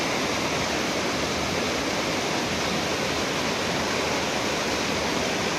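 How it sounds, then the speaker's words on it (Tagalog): Spring water pours steadily at Infanta Falls, a dense, constant rushing flow that fills the scene evenly from start to finish, close and loud with no voices over it. "Tubig inumin galing sa bukal"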